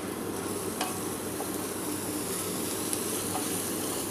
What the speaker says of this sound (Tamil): இப்போ அந்த பீன்ஸ் போட்டு ஒரு 5 மினிட்ஸ் நல்லா ஆயிலேயே வதக்கி